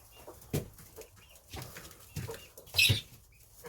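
Hens settled on a nest in a backyard coop give soft, scattered clucks and low murmurs, with a brief rustle or flap of feathers and one louder burst near the end; no one speaks.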